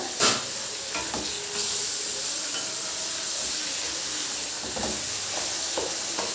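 Country chicken curry pieces sizzle and fry in a pan while being stirred, with a steady hiss and scattered scraping clicks of the spoon throughout, fairly close and continuous.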